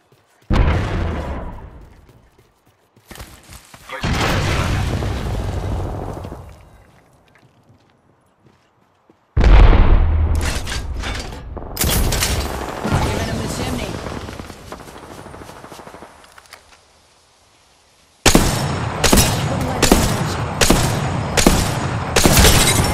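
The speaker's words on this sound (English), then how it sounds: "Joker's shooting at me." Gunfire in the Apex Legends video game: loud bursts of rapid automatic shots in several separated volleys, with game voice lines over parts of the action.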